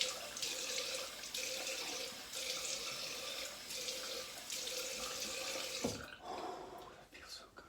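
Cold water running from a tap into a sink after a shave, a steady close splashing stream that pulses on and off in bursts before stopping, with a person talking over it.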